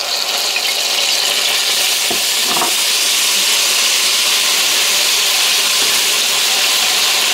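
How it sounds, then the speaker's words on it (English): Garlic sizzles loudly in a pan on turned-down heat for a sausage casserole, a dense continuous hiss with a couple of brief stirring scrapes early on, very close and with no voices. "keep stirring that to make sure the garlic doesn't catch"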